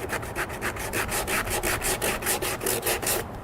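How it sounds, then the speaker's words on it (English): Dry body filler on a crashed McLaren 650S Spider is sanded with 80 grit sandpaper, heard as steady, rhythmic back-and-forth rasping strokes, close and even, about five strokes per second, with no talking. "So now I got 80 grit sandpaper and we're gonna work this area"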